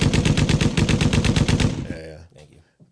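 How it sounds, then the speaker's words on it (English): A podcast soundboard fires a gunshot effect as a rapid burst of machine-gun fire, loud and evenly spaced for about two seconds, then cuts off as someone speaks briefly. "How dare I make you do your own gunshots?"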